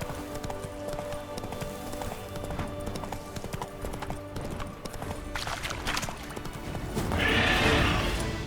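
Roach the horse from The Witcher 3: Wild Hunt – Blood and Wine gallops in steady, rapid clip-clop hoofbeats, loud and close, and near the end a whinny rises over the running.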